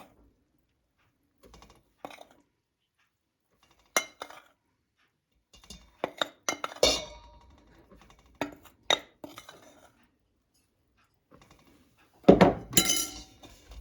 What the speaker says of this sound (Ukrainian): І цю суміш розмішуємо.